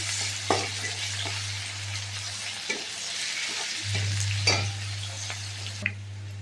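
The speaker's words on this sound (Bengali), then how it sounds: "পেঁয়াজটা আমার ভাজা হয়ে গেছে।" Onion and green chilli frying in a pan, a constant crackling sizzle with periodic scraping knocks of a spatula stirring, moderately close, over a low steady hum that drops out briefly midway.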